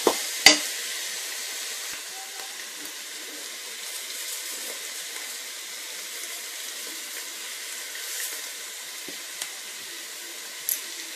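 Vegetables and spices are stirred in a pan, a faint steady sizzle with a couple of sharp utensil knocks near the start and a few soft clicks later, no talking.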